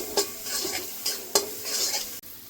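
Masala paste with salt sizzles in a pan for a Bengali fish curry with okra, and several sharp strokes of a spatula scrape and stir it against the metal over a steady, soft frying hiss.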